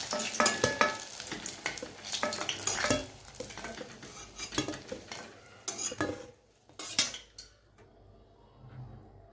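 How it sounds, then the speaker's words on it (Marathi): Eggplant frying in a pan while being stirred, with steady sizzling, clinks of a spoon against the metal, and scraping strokes close by; the activity thins out near the end and no one speaks. "वांगे आपले मस्त फ्राय झालेले आहेत"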